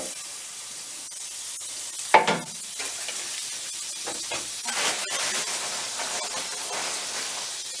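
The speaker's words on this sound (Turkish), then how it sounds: "Şimdi birinci tavamıza bir miktar yağımızı koyuyoruz" Oil sizzles and crackles steadily in a hot frying pan, ready for frying slices of toast bread for Korean street toast, with a sharp clatter near the start and occasional louder spits.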